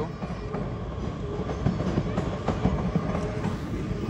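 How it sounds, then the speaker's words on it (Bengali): Trains rolling through a railway station in the middle of a city, a continuous rumble with rhythmic clickety-clack of wheels over rail joints, moderately distant, no voices. "এই একটার পর একটা ট্রেন যাচ্ছে, তোমরা দেখতেই পাচ্ছ"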